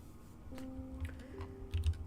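Computer keyboard typing in a home setup, a scattering of light clicks over a low steady hum, with a brief faster burst of keystrokes near the end.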